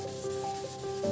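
Wet sandpaper rubs rapidly back and forth against a yellowed plastic car headlight, a close, steady scratchy rasp with slight squeaky tones.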